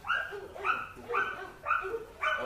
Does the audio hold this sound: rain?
no